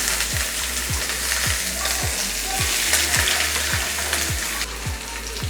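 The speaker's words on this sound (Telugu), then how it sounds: "ముందు మనం ఉల్లిగడ్డలు వేయించుకుందాము" Onions frying in a pan for egg salan, a steady loud sizzle with a regular series of scraping stirs about every half second, no voices.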